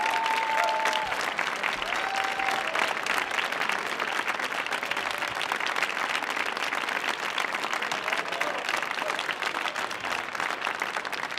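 Sustained applause and clapping from a theater audience after youth poets perform on a stage, dense and steady throughout with faint crowd murmur underneath.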